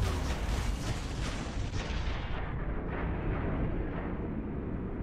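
Heavy gunfire in Transformers Universe, a loud, steady barrage of booming shots with no pauses, fading slightly toward the end, no voices.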